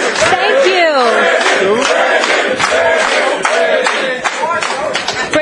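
Studio audience on a talk show greets guest Brandon Marshall with loud, continuous cheering and clapping that fills the whole stretch, with voices shouting and whooping over the applause.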